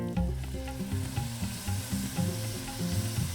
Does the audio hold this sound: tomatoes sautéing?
yes